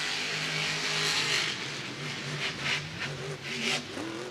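A Monster Jam monster truck driven by Camden Murphy revving hard during a freestyle run, its engine note rising and falling in loud surging pulses over a continuous crowd-like roar.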